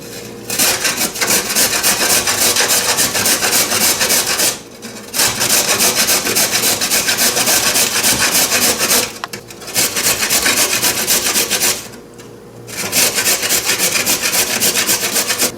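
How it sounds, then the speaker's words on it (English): Carrots are grated by hand for Caribbean coleslaw in three long runs of loud, rapid back-and-forth scraping strokes, each separated by a brief pause. "And then I'm going to grate the carrots, or shred them."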